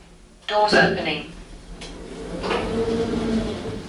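Lift doors at the Dolphin Shopping Centre in Poole: a sudden metallic clank and rattle, then a rumbling slide and a softer clunk as the doors move, close by and loud.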